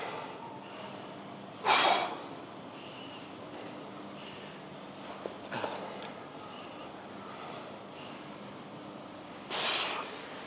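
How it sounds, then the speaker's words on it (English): Heavy, effortful breaths during a weightlifting workout come in a few loud, sharp bursts spaced several seconds apart, with quieter rasping breathing and room noise between them. "Breathing is challenged."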